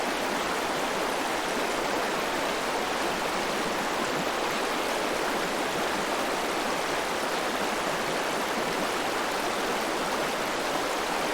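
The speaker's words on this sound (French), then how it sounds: "tu observes le mouvement de l'eau, sa constance, sa douceur" Water flowing steadily in a stream over large stones, a constant, dense rushing wash with no break or change, close and fairly loud throughout.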